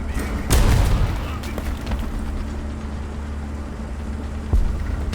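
A bomb from a bombing run in War Thunder bursts as a deep, heavy boom early on, followed by lingering battlefield rumble and engine drone, then a second, shorter thump near the end.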